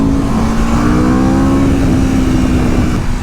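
A 2022 Aprilia RSV4 sport motorcycle revs loudly under twisted throttle, its engine tone holding high and steady for about three seconds with wind rush underneath, heard from the rider's position.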